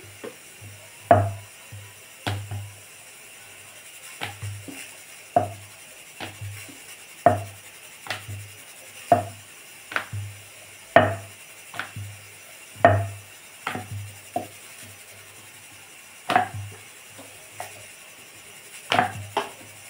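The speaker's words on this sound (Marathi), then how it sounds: "याची पोळी लाटून घ्यायची." A rolling pin works dough into a thick flatbread, giving about a dozen evenly spaced wooden knocks and rubs against the board, close and clear with quiet gaps and no talk.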